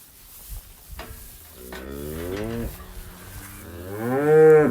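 A cow moos repeatedly in a calving pen on a farm, long drawn-out bellows rising and swelling, loudest at the end, close by with faint shuffling in the background.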